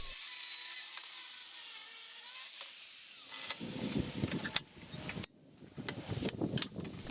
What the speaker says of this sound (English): Now I'm cutting the steel to length.